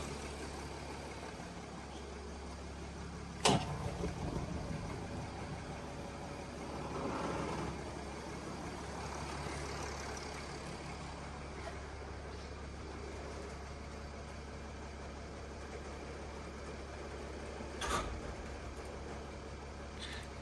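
A Mercedes W166 ML runs in a garage, its engine idling as a steady low hum throughout, with a sharp knock near the start and another around the eighteenth second.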